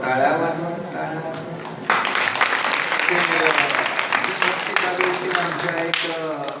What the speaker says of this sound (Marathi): मी बऱ्याच वेळा म्हणत होतो, टाळ्या वाजवा, टाळ्या